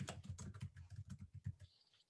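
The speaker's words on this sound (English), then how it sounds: "You cannot see whatever I'm typing." Rapid typing on a computer keyboard, a quick run of crisp key clicks in an uneven rhythm that tapers off after about a second and a half, close and fairly quiet, with no talk.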